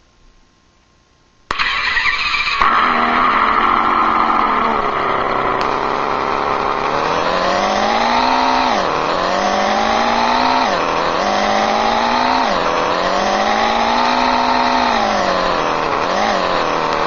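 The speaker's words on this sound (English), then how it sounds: "This is a Ferrari. I'm not sure which model. It's a late model Ferrari." An RC sound unit plays a simulated late-model Ferrari engine: after a brief quiet start it bursts into a loud, steady high-pitched roar, then rises and falls through several rev sweeps, running continuously to the end.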